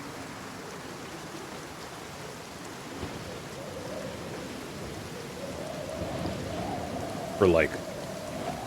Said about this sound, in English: Gotta say, the amount it's raining is so abnormal.